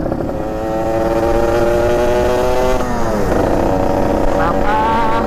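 A Yamaha 125Z two-stroke underbone motorcycle revs loudly up close, its raspy engine note climbing in pitch, dipping midway, then rising again over about five seconds.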